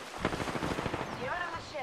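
Rapid automatic gunfire from the Apex Legends video game, a dense burst of repeated shots over the first second or so, followed by tonal in-game sound effects near the end.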